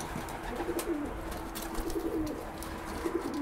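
Pigeons coo inside a loft, soft repeated rolling calls that run close and steady over a low ambient hum, with no voices.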